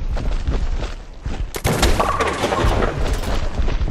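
A heavy weapon fires in the Fallout 4 video game during a fight with a behemoth, producing a loud, dense burst of booming shots and blasts that continues throughout, growing heavier after the midpoint.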